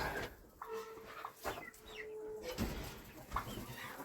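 Chickens, including bantams, cluck and murmur nearby in short irregular bursts, with one sustained tone and scattered rustling and knocks around them.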